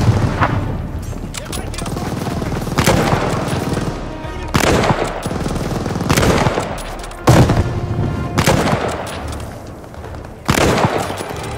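A grenade blast and heavy gunfire in Call of Duty: Vanguard, with loud repeated bursts of automatic fire and booming impacts throughout, layered over dense battle noise.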